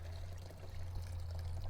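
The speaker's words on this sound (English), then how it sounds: "I'm just going to pour it straight out into our cup and dispose of it properly." Old two-stroke fuel, gasoline mixed with oil, is poured from an engine into a cup, a soft steady trickle over a low hum.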